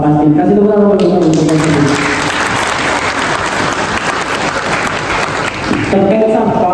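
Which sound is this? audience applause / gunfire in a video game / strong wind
audience applause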